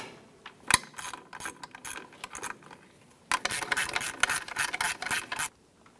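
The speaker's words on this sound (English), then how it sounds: "Using an 11mm socket for the bottom nut and a 12mm for the stud itself, I'm going to go ahead and tighten these down." A ratchet clicks in quick bursts while 11mm and 12mm sockets tighten ball joint nuts on a 1994-2004 Chevy S10, a short spurt followed by a longer run of rapid close clicking.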